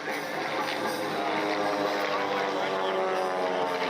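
A small, powerful propeller aircraft rolling overhead at the Props & Pistons Festival airshow in Akron, Ohio, a sustained buzzing engine drone with a steady tone, moderately distant and continuous.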